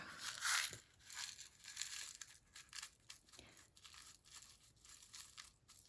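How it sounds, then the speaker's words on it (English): Shells mixed with crushed blue, red, gold and black glass are poured into a mold, giving a loud gritty rattle and crunch at first that settles into a steady granular clatter. "let's put these stones in here."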